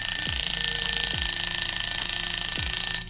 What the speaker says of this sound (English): That was a different timer that went off.